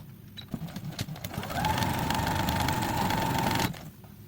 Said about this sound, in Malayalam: ഓരോ ലൈൻസിന്റെ അതിലൂടെ നമ്മൾ